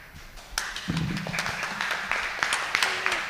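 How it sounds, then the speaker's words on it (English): Audience applause at a G20 event webinar on people-centred transitions, following opening remarks. Scattered claps swell into a moderate round, while a voice briefly speaks underneath. "Please, huge round of applause for Mr."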